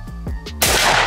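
A single loud, sharp gunshot from a .357 Magnum fired at a gas cylinder in an open field cracks out after a low rumbling background hum, leaving a broad, ringing noise trail.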